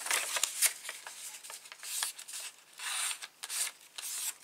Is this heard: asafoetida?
no